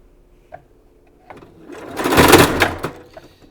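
Sewing machine stitching a fabric strip, starting with a few light clicks before building into a loud, fast, steady run of stitching that slows and stops near the end.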